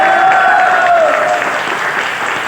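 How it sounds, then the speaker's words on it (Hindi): Loud applause fills a meeting hall, a large seated audience clapping in honour of a senior upline; the dense, steady roar of hands holds strong and then eases slightly toward the end. "उनके लिए जोरदार ताली होना चाहिए डियर फ्रेंड"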